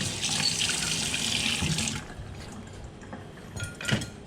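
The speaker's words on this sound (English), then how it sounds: "So let's quickly rinse it." Tap water runs steadily into a sink while an espresso machine's coffee basket is rinsed on a SMEG EGF03 semiautomatic espresso machine with integrated grinder, then cuts off, leaving faint clinks of the basket and light splashes.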